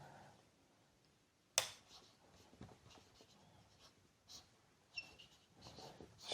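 A pen writes on paper while working a math exam problem, faint scratchy strokes with a few sharper taps, quiet and close with no talking.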